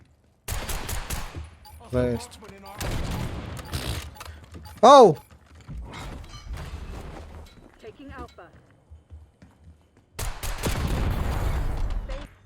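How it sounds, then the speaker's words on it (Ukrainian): Rapid pistol gunshots from a video game crack out in short bursts, mixed with a player's voice talking over the action. "я не вмію з цього пістолета стріляти"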